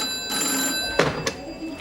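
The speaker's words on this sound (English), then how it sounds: "Phone." Telephone ringing indoors in a sitcom hospital setting, a short electronic ring with steady tonal partials, fairly close and heard alone without talk.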